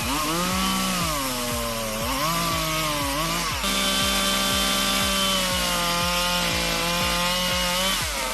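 A chainsaw, a 5143R, cuts through a 130 mm red oak log with a steady, loud engine whine, and the rasp of the chain through the wood pulses rhythmically throughout without bogging down.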